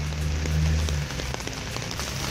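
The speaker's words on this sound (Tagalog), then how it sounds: "Rain, rain, go away" Steady rain patters on a surface outdoors in Baguio City during a rainy typhoon morning, a dense continuous hiss with a low hum fading out partway through.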